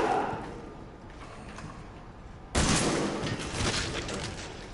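Gunfire in Resident Evil 7 erupts as a sudden loud burst midway, after a stretch of steady rumbling noise, then continues as a dense, close volley.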